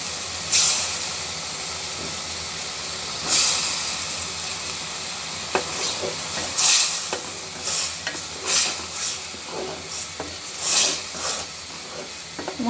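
Boiled eggs are folded into fried masala for a spicy egg bhuna, with repeated close scraping strokes of a spatula over a constant frying hiss that swells with each stir.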